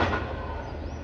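Northbound freight train I-141 rolling by on a siding, a steady loud low rumble with rattling metal and a broad hiss throughout, close and continuous with no voices.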